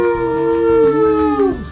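A human voice imitates a pit bull with one loud, close, drawn-out howling bark that slides downward and fades at the end, with no other talk.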